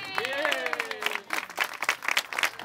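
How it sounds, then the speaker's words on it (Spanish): Applause from guests at a party after a football match breaks out close by in uneven bursts, with voices speaking over the start. "Pero un aplauso fuerte, ¿vale?"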